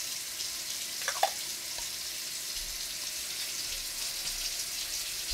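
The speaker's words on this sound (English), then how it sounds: "I know you want to watch me fill a thing with water" Water runs from a tap into a bottle in a steady hiss, with a couple of faint clinks near the start.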